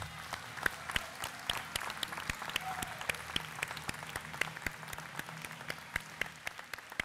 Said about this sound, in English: Let's give all of your classmates a round of applause.